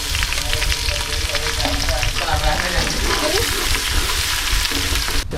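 Onions already browned in a pan sizzle loudly and steadily with fresh ginger and garlic, a dense continuous frying hiss with occasional stirring scrapes for a restaurant-style white daal mash.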